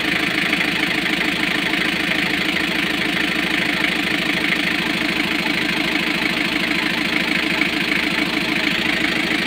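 Freshly overhauled Kia KC2700 engine idling with a misfire: a steady mid-pitched diesel rattle with uneven, stumbling pulses, close and continuous, no talk.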